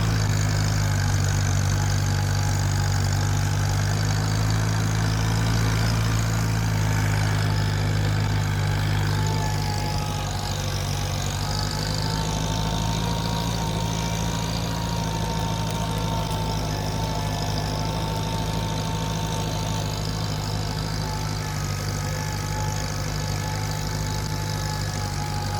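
A tractor engine running steadily from a played-back recording, a loud continuous low rumble with mid-range mechanical hum throughout, no voices over it.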